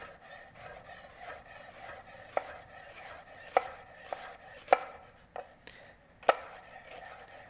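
A knife slicing an onion on a cutting board with a gliding motion, quiet rasping strokes punctuated by several distinct taps of the blade on the board at irregular intervals, close and alone.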